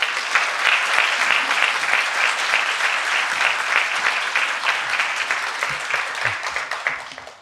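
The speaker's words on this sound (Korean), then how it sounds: "우리 목사님을 큰 박수로 환영하겠습니다." A church congregation applauds to welcome its pastor, with loud sustained clapping from a full room that lasts throughout and fades slightly at the end.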